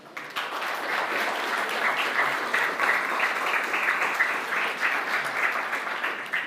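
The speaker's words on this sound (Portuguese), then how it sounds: "Palmas para o Otávio." Crowd claps for a man named Otávio at a Brazilian gathering, a steady rhythmic round of applause rising quickly and holding at moderate loudness for over six seconds, with no one speaking.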